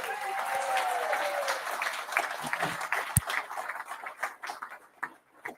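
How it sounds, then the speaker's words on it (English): A crowd at a British political rally launch claps in a dense burst of applause that thins out into scattered, fading claps, heard alone after a voice trails off at the start. "Give yourselves a round of applause."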